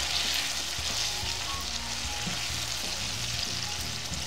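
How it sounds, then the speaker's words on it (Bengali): Hilsa fish pieces drop into spice masala frying in oil for a salty Bangladeshi hilsa curry, giving a loud, steady sizzle with soft bumps and scrapes throughout, no voices. "মশলাটা কষানো হয়ে গেছে, আমি এখন মাছগুলো দিয়ে দিচ্ছি এর মধ্যে"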